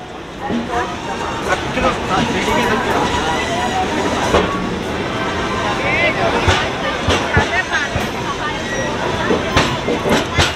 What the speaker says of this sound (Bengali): 9টা 4 থেকে বেনারস থেকে ট্রেন ছেড়ে দিল।